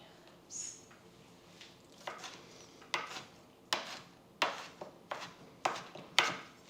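A kitchen knife chops food on a cutting board in a home kitchen, giving a steady run of sharp, close taps about every half second. The taps are fairly quiet and there is no talk over them.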